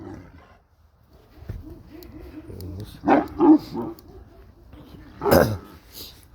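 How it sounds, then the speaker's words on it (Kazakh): A large 80 kg fighting dog at a village farm in Zhambyl district, Kazakhstan, gives a few deep, loud barks, two close together and then one more, with low growly sounds and a person talking in between. "Мынау итіміз екінші"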